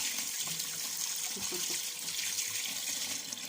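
Water runs from a tap into a bowl to soak food in a home kitchen, a soft, steady trickle and splash heard alone and fairly faint.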